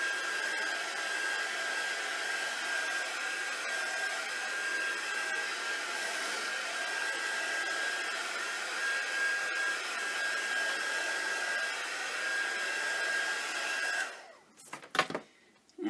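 A hair dryer runs steadily for about fourteen seconds, blowing a constant whirring hiss to dry distress paint on a journal cover. It then switches off, followed by a few brief handling clatters.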